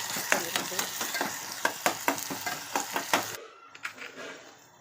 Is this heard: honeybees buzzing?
no